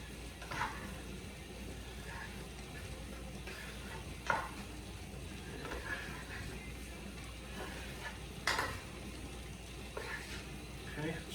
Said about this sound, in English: Cook this cabbage for another minute or 2.